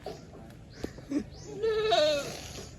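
Goats bleat on a goat farm, a few short calls near the start and then a louder, drawn-out wavering bleat close by, with faint background noise and no talk.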